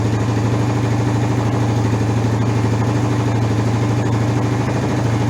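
An ATV engine idles steadily after clearing bad gas, a loud, close, even low rumble that holds without a break throughout.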